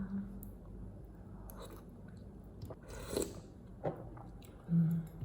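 Someone eats a home meal of eggs and seaweed soup from a new bowl, chewing softly and steadily, with a few slightly louder bites near the end in an otherwise quiet room.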